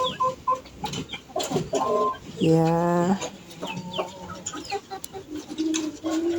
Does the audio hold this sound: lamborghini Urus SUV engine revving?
no